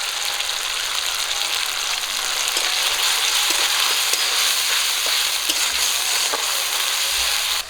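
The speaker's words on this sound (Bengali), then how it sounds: "আদা রসুনটা দেওয়ার পর আর একটু ভাজা করে নেব।" Ginger-garlic paste fries in a pan with tomato and onion, giving a steady loud sizzle with occasional stirring scrapes and crackles throughout, no voices.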